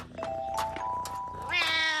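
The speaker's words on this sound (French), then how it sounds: "Sans Vincent, ton chat aurait pu passer la nuit dans l'arbre." A cat meows in a drawn-out, rising and wavering cry, loud and close, ending in a higher, strained caterwaul.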